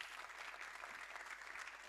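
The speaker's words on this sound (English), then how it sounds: "can we give a round of applause for the Vice Chancellor?" An audience at a graduation ceremony applauds the Vice Chancellor, with dense, steady clapping filling the whole stretch at moderate distance and no voices over it.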